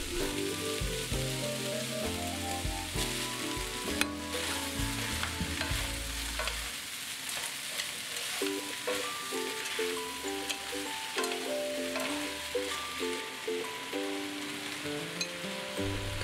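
Prepared ingredients for Vietnamese eggplant soup frying and being tossed in a pan, a continuous sizzle with stirring scrapes under background music.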